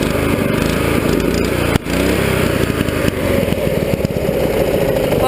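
A motorcycle engine fitted with twin PZ30 carburetors runs close by at a steady, loud, even idle with a brief dip partway through.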